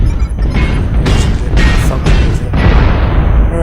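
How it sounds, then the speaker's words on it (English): Missile impacts in a MechWarrior video game battle: a loud series of deep booming explosions, with several heavy bursts in quick succession over a rumbling background. "He's going to fire missiles at me."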